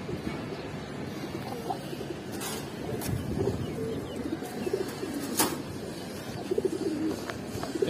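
Giribaz pigeons, a Bengali flying breed kept in a loft for sale, coo in a steady low murmur that carries on throughout, with a few sharper chirps and rustles.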